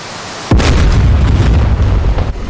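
A destroyer takes a hit in a naval combat video game, erupting in one sharp, loud blast followed by a sustained rumbling roar of fire and debris that fades near the end.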